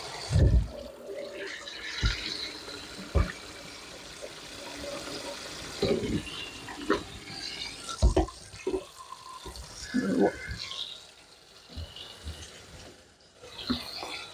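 Raw oxtail pieces rinsed under a running kitchen sink tap, with a steady close splash of water and intermittent knocks and clatters of meat and hands in the basin throughout.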